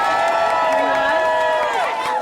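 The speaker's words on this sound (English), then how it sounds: "Can we get a round of applause for our amazing drummer" An audience cheers and applauds for the drummer, Henry, at a live performance. Loud crowd noise and whoops run steadily throughout, with sustained tonal voices or music layered through it.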